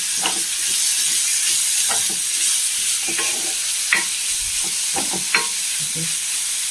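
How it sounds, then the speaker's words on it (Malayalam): Chopped onion frying in hot oil for egg curry gives a loud, steady, close sizzling hiss, punctuated by intermittent clinks and scrapes of stirring, with no speech. "അതിലേക്ക് നമുക്ക് ഒരു സവാള അരിഞ്ഞത് ഇട്ട് കൊടുക്കാം."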